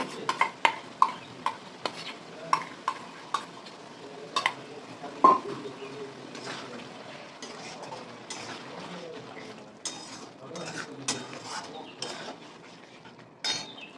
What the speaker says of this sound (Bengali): দেখো বন্ধুরা আমার কষানোটা মশলা হয়ে গেছে পাশ দিয়ে তেল ছেড়ে দিয়েছে বন্ধুরা এবার আমি ফাটানো টক দইটা দিয়ে দিলাম